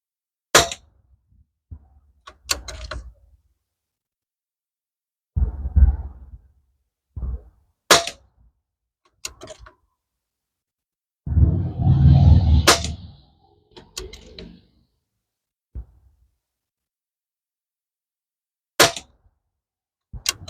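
A Pinty P-Force air rifle firing pellets outdoors in wind, a series of sharp isolated cracks spaced seconds apart, with a few bursts of low wind rumble between shots and no talk.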